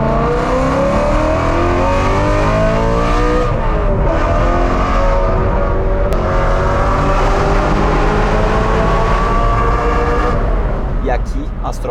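A BMW M3 E90 V8 engine revs hard toward its 8,400 RPM limiter, a loud sustained howl with rising and falling pitch sweeps and a brief dip before climbing again.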